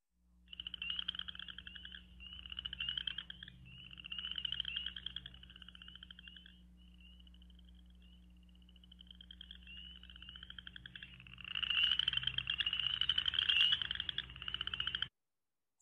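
Boreal chorus frogs give repeated trilling calls from a played recording, a series of rising creaky pulses in steady bursts that thicken into a denser, louder chorus near the end, with no voices.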